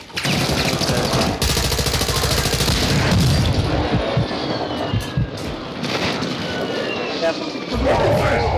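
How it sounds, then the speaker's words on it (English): Video game airstrike explosions and gunfire: loud booms, bursts of shots and crashing impacts come in waves throughout, while voices talk over the barrage. "Hostile precision airstrike. Airstrike on me."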